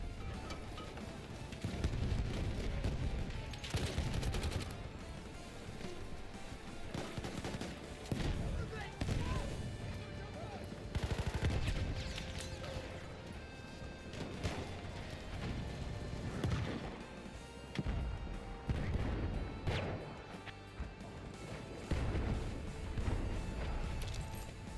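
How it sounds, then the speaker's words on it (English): Battlefield 6 gameplay with a dense, steady barrage of gunfire and heavy impacts, including rapid machine gun bursts. Crashes and booms sound throughout, loud and close, with no pauses. "Machine gun hostile."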